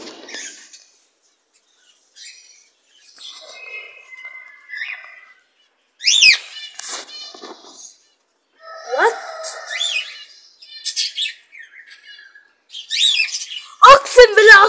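Street sparrows chirping close by, bursts of sharp tweets and calls scattered irregularly with short silent gaps between them, loud and near.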